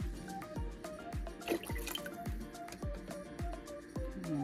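Steady dripping and splashing water, a run of distinct drops falling into a cooking pot at an even pace, close by and fairly loud.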